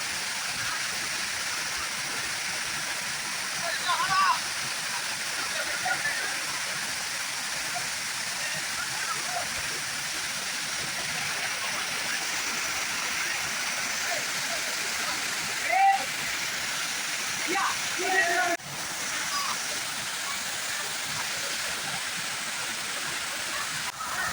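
Mayil Ootru waterfall in the Pachamalai hills roars steadily and close throughout, a continuous broad rush of falling water with occasional splashes and brief voices in the background.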